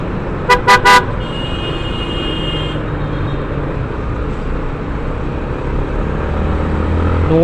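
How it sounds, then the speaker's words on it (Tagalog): A car horn blares from a vehicle behind on an open road, three quick loud toots over steady engine and road rumble, followed by a long high tone. "yung nasa likod ang nagbusin na para sa'yo"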